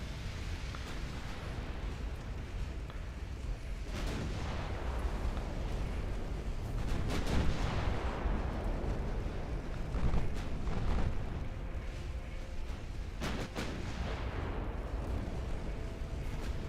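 Naval artillery gunfire from warships in Ultimate Admiral Dreadnoughts, heard as a steady rumble of distant booming salvos, with several sharper bursts around the middle and again near the end, all at moderate loudness without speech.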